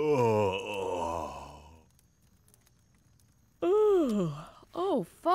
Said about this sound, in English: I think your yawns are catching.